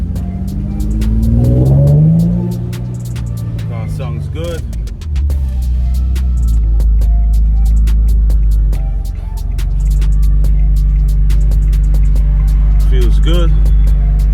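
An Infiniti G37, just back on the road after its coolant system was drained and bled, drives with a loud, steady engine drone. The engine revs up early on, and scattered clicks and knocks come from the cabin.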